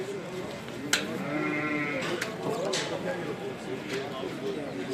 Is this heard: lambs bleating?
yes